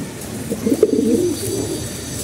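A pigeon in a loft gives a single soft, throaty cooing phrase lasting about a second, close and clear against a quiet background.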